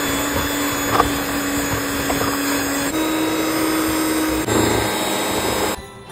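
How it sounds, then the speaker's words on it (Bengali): Electric blender mixing Christmas cake batter, a loud continuous motor whir with a steady hum, running without a break and cutting off just before the end. "ব্যাটারটা ভালো করে ব্লেন্ড হয়ে গেছে"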